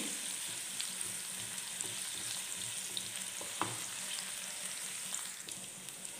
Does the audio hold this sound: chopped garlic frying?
yes